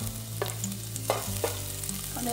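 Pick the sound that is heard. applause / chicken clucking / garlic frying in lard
garlic frying in lard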